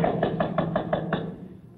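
A quick series of about seven crisp knocks raps on a wooden door in a comedy sketch, evenly spaced and fairly close, with no talking.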